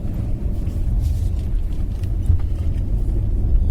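A Mercedes S-Class rolls round a roundabout, and its low, steady road rumble and muted engine hum fill the cabin evenly with no talking.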